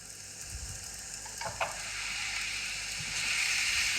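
Soy sauce hitting a hot pan of frying chicken fried rice, a steady bright sizzle that swells and hisses continuously, with a few light stirring clinks, close and alone.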